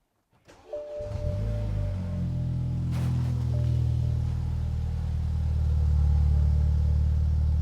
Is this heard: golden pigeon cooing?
no